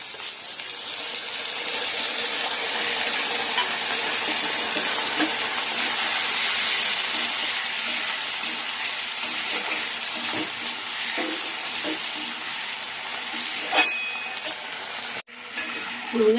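Onion and capsicum frying in a pan with soy, tomato and chilli sauces added for chilli chicken, a loud steady close sizzle with occasional stirring clatter and a short knock near the end.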